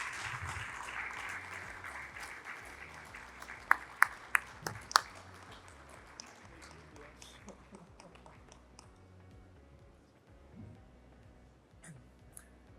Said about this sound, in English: Once again, a round of applause to Dr.